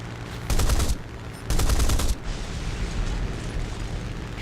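A 20 mm aircraft cannon fires in War Thunder in two short, loud rattling bursts of rapid shots, each under a second, over a steady engine drone.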